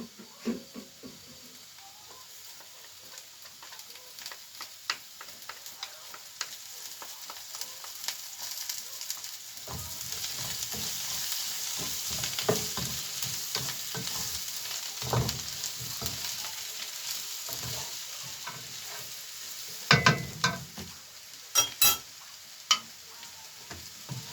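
Potatoes and onion frying in ghee crackle steadily in a pan, with scattered clicks and scrapes of stirring growing busier partway through and a few sharper knocks near the end.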